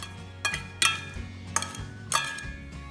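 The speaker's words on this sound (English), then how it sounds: "So I'm gonna first mix all my vegetables in and move them around really well" A utensil stirs chopped vegetables and onions in a bowl for tuna salad, giving four distinct clinking scrapes against the bowl at irregular intervals over a low steady hum, close and fairly loud.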